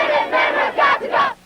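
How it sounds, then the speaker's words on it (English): Crowd of protesters marching against the Minutemen, chanting in loud, rhythmic shouted bursts, about four pulses in quick succession, with massed voices fairly close. "Hundreds of protesters from around the state marching against the Minutemen."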